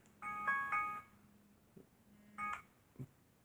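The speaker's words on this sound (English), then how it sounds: "And I got my little cell phone alarm here." Cell phone alarm tone ringing in two bursts of bright, melodic beeps about two seconds apart, each followed by a soft thump, close and clear with no talking.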